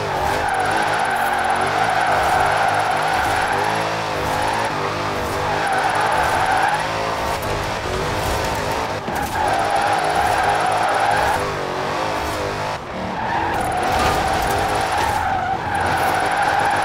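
Car drifting in the video game Forza Horizon 4, tires skidding and squealing in long loud sweeps over a revving engine, with brief dips between slides and no talk.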